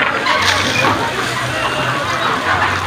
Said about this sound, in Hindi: तो बाल्टियाँ भर रही हैं और गिर रही हैं नीचे